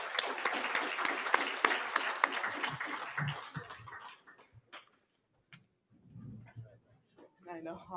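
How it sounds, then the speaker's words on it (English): An audience at a media summit breaks into loud, dense applause that holds for about four seconds, then thins into scattered claps and fades to near silence, with murmured voices and chatter returning toward the end. "Let's give them a round of applause"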